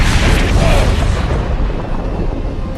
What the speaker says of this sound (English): Mortar fire! We'd better head back